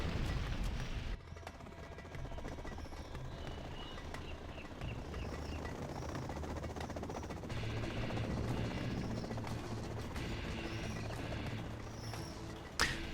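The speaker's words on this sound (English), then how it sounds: "Combat Chinook's flying around, seeing what they can get done." Combat Chinook helicopters fly around in a video game battle, a steady low rotor drone with dull distant booms and gunfire bursts scattered through, no talk.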